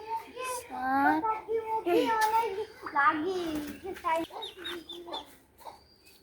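A flock of chickens, with a foreign-breed turkey among them, clucks and calls close by while children talk over the birds in an outdoor yard.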